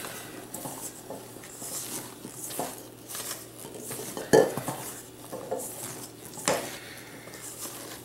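Soft scraping of a utensil folding thick ganache succès cake batter in a bowl, with occasional clinks against the side, steady and close.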